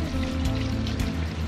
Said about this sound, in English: I've been riding in the rain now for 4 hours.